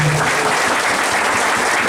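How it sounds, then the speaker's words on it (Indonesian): Loud, dense applause from a church congregation welcoming the Arfak paramount chief at a church inauguration, steady clapping filling the whole stretch with no break. "Mari kita tepuk tangan yang keras"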